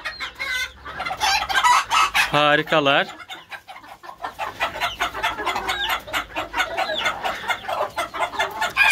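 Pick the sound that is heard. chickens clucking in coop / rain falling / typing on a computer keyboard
chickens clucking in coop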